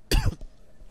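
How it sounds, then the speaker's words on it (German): A single sharp, close cough bursts out loudly, followed by a brief faint throat sound and quiet room tone. "Tut mir echt leid mit dem Husten."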